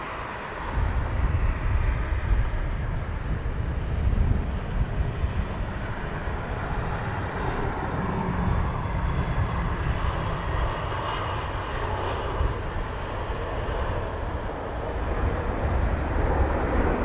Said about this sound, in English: I can see the Qatari taxiing down.